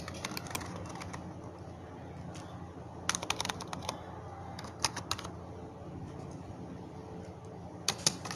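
Typing on a computer keyboard while filling in a name on an online form, with steady faint key clicks and a few louder bursts of rapid keystrokes over a low room hum, no voices.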